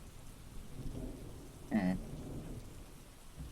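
Steady rain with a low rumble of thunder in the video game Reliance: Evoken, a soft continuous patter with one brief louder swell midway, and a single short murmur from a voice.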